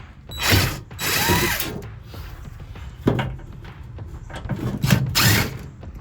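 Bolts loosened with a hand tool underneath an RV, heard as several bursts of mechanical grinding and ratcheting spread across the moment, close and fairly loud, with pauses between efforts.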